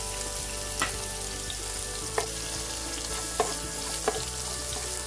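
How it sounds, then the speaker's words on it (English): Diced white onions fry in hot oil in a pan, giving a steady, close broadband sizzle with a few sharp spatula taps against the metal, no voices. "to the same oil in the pan, we're going to add our diced white onions"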